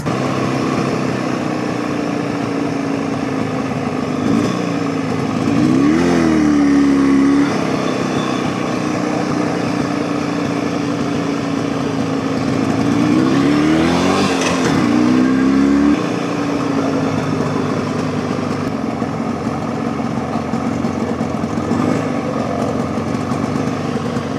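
A small two-stroke engine idles steadily nearby with a buzzing drone, rising briefly in pitch twice as it revs, at an outdoor vintage engine rally.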